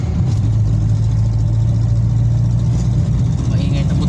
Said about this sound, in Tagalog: Maingay talaga tambutso.